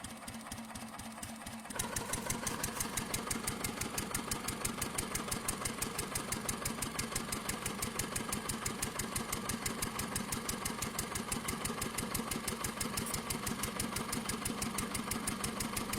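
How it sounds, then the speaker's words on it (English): An MAH 716 air-cooled stationary engine starts up after a quiet second and settles into a steady slow-running beat, its rapid even firing pulses loud and close for the rest of the clip with no voices. "The MAH 716 is a slow-running, air-cooled engine, typically operating at low revolutions per minute"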